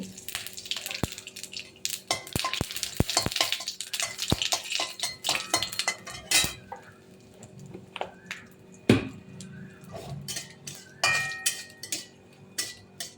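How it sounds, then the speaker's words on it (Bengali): Bay leaf, dried chili and cumin sizzle in hot oil in a wok, with fast sharp crackles and pops, frequent clinks of a metal spoon against the pan, and no talking. "এবার আমি কড়াতে ফোড়নের জন্য তেল দিয়ে দেবো। আমি দিয়ে দেবো তেজপাতা, শুকনো লঙ্কা, জিরে"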